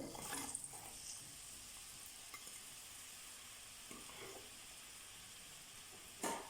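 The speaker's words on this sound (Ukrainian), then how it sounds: "До сковорідки, де ми жарили м'ясо, вкидаємо моркву з цибулею." Carrots and onions fry in a pan previously used for searing meat, giving a faint, steady sizzle with a few soft stirring scrapes and a brief clatter near the end.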